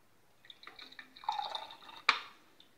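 Beetroot syrup poured into a small glass tumbler, a short soft trickle with small drips building to a brief splashy fill, then a sharp clink as the pour ends, close and without talk.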